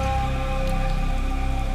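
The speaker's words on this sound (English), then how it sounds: "It's raining." Rain falling in the Mini Ninjas video game, a steady even patter that holds for the whole stretch under a humming tonal game backdrop, with no one speaking.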